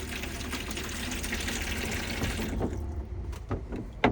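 Tap water runs steadily into a drainless caravan sink in a Nu Venture Elise, a continuous close splashing rush that thins toward the end with a few sharper drips and knocks.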